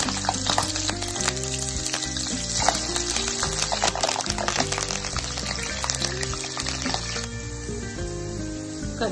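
Green chillies sizzle in hot oil in a pan of roasted dal, for spicy sweet-coated puffed rice, a steady crackling hiss running beneath loud background music throughout.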